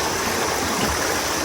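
A river runs beside a bamboo bridge on a hill hiking trail in Mojokerto, making a steady, close, broad rushing and splashing wash of flowing water. No one speaks.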